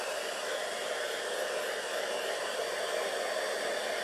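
Steady, close whoosh of a hair dryer running continuously while drying decoupage glue on a pumpkin, an even airy roar with no pauses or speech.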